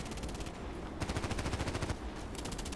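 Rapid automatic gunfire in the online shooter Contract Wars, with fast rhythmic bursts of shots near and loud and a brief pause between volleys, without speech.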